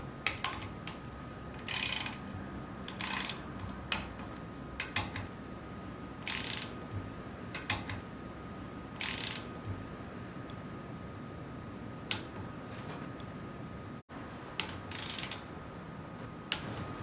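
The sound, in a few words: ratchet tightening engine head bolts in stages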